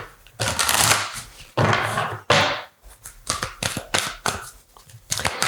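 Tarot guidance cards are shuffled by hand, close riffling bursts and quick flicks, several long swishes followed by faster, choppier taps and slaps, with no one talking.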